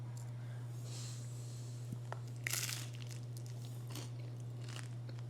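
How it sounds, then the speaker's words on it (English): A single crisp crunch of a bite into avocado toast with chili onion crunch, close and brief, over a steady low hum with a few faint clicks. "let's take a bite before I let you guys go"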